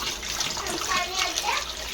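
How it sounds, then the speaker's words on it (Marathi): Steady running water splashes and hisses as crabs are rinsed under a tap, close by and continuous. "चांगल्या पाण्यातून धुवून"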